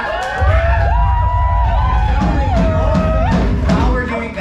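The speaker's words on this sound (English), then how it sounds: "Can we get another applause for that?" Crowd cheering and whooping at a punk rock show at Our Wicked Lady in Brooklyn, loud and continuous, with a sustained vocal tone over dense crowd noise and low rumble.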